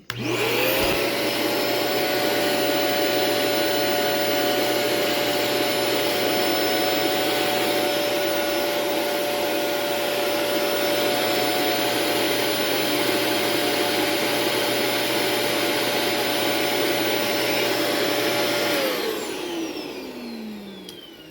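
A Mosquito Carbon Lite 6 quart vacuum starts up and runs on max, a loud, steady high whine with a strong airflow roar held for about eighteen seconds before it winds down to quiet.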